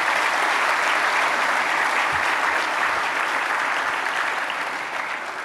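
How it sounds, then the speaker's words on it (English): Steady, dense applause fills an auditorium at the Palais des Congrès after the National Ballet of Côte d'Ivoire's dance performance, loud and sustained before tapering slightly at the end, with no talking. "may we please give a round of applause to the group that just performed this wonderful"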